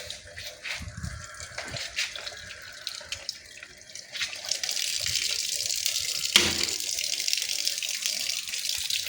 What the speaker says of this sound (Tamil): ஒரு டேப்பில் தண்ணி வந்துடுச்சு.